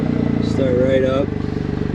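Small JDM car engine, a Suzuki Cappuccino or Mitsubishi Lancer Evolution IV GSR, running at a pulsing idle close by, with a brief voice over it midway.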